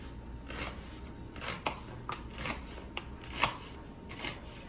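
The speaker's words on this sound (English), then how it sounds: "we're gonna cut it in half and then we're gonna slice it" A knife slices through a food item for huevos rancheros on a cutting board, several soft, scattered cuts and scrapes sounding close and fairly quiet over low room noise.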